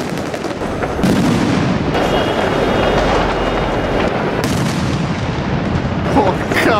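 New Year's fireworks and firecrackers going off in a Naples neighbourhood: a loud, continuous barrage of bangs and crackling blasts, near and dense, with occasional voices faintly mixed in.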